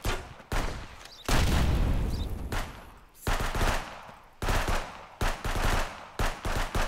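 Automatic gunfire in a police video game, loud close bursts of rapid shots broken by short pauses, the bursts growing shorter and choppier toward the end.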